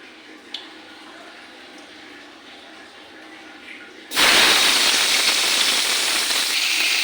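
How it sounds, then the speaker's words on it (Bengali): Shing fish with salt sizzling in hot oil in a kadai, a loud steady hiss that jumps up suddenly and stays strong and close after a quieter stretch. "দেখো আমার মাছগুলো ভাজা হয়ে গেছে"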